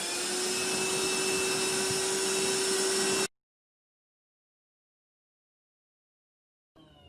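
A handheld vacuum cleaner runs loud and steady for about three seconds while sucking up a mess on a couch, then cuts off abruptly into silence before a brief rustle at the end.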